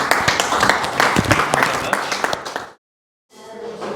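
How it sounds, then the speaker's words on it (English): An evening Café Scientifique audience gives a round of applause. The dense clapping is loud and steady for under three seconds, then cuts to silence before another sound starts. "Can I ask everyone to please give her a very warm round of applause?"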